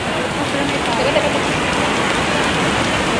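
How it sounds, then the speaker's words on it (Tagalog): Heavy rain pours at Universal Studios Singapore in a dense, continuous outdoor hiss of drops hitting the ground, with faint speech mixed in. "Ulan po dito guys sa Universal Studios."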